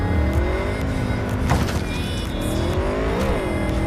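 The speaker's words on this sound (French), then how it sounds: "Je crois que ma moto est un peu trop puissante." A powerful motorcycle engine revs steadily in Cyberpunk 2077, its pitch rising and falling with a swooping whine, loud and continuous, with no voices.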